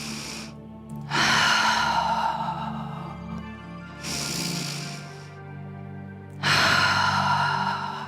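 Deep yogic breathing is held in airplane pose, three loud, breathy inhales or exhales spaced a few seconds apart with quieter gaps between them, close to the listener.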